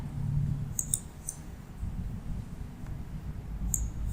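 A computer mouse gives a few faint, crisp clicks at close range against quiet room hum.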